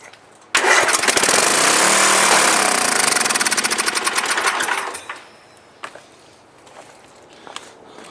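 A small Murray push mower engine catches abruptly and runs with a loud, rapid, rattling putter for several seconds, then sputters and fades to a faint idle with scattered clunks.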